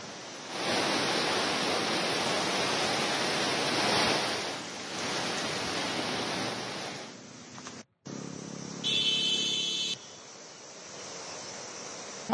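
The flooded Beas River at Mandi in Himachal Pradesh rushes in a loud, steady roar of broadband water noise, then drops off and briefly returns before cutting out.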